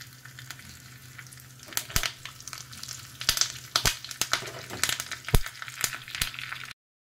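Curry leaves and sesame seeds sizzle in hot tempering oil with mustard seeds, a steady close frying hiss broken by frequent sharp pops and crackles, no talking, ending abruptly.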